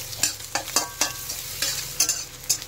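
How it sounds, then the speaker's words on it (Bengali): Onions, ginger and garlic fry in a pan with a soft steady sizzle while a utensil stirs in regular scraping strokes, about twice a second, with no talking. "পেঁয়াজের সাথে আদা রসুন ভালোভাবে ভেজে নিয়েছি"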